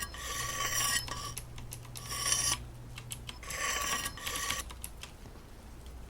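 In a knife-sharpening video game, a blade scrapes against a sharpening stone in repeated rasping strokes, bursts of gritty scraping separated by brief pauses, moderately loud and close, with a low steady hum underneath for a few seconds.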